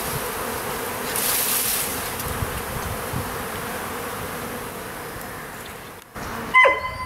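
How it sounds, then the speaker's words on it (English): A swarm of honey bees just out of a strong backyard hive gives off a steady, dense buzz close by, with a few louder passes by single bees and a short knock near the end. "So that swarm of bees actually came from this hive"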